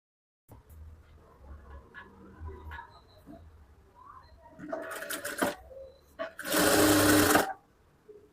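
A domestic sewing machine stitches along a folded blouse edge, with quiet handling noises first, then a short whirring run and a longer loud, steady burst of stitching close up.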